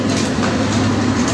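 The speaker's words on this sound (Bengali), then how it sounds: "এবারের এই ঈদুল আজহার ট্রেন" A passenger train runs during the Eid ul-Adha holiday, giving a loud, continuous rumble and rattle of rolling wagons close by, with no talk.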